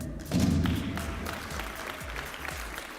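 An audience claps for an awardee honoured for 52 years of service at a ceremony, a modest, fairly faint round of applause with a low thump near the start.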